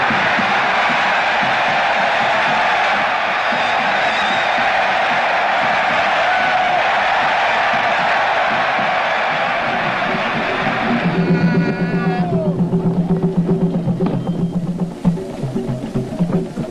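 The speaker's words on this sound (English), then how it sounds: "the crowd gave its biggest and warmest welcome" Large crowd at an outdoor Lagos arts and culture festival cheering and shouting in welcome, a sustained broad roar that keeps going without a break, with a band or drumming coming in loudly partway through.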